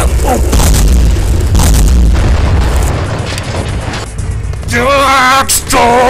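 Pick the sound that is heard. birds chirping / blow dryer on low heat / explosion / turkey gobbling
explosion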